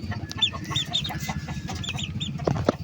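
Several chickens cluck in short, repeated calls at moderate distance, with a busy scatter of clucks over a low rumble and no talking.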